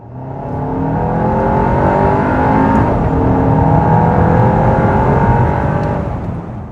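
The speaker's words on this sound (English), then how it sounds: "Once you step on the gas pedal, there's a bit more sound coming to the cabin." A 2026 VW Tayron R-Line SUV engine revs up hard in sport mode, its pitch climbing steadily as it accelerates, loud and close before easing off at the end.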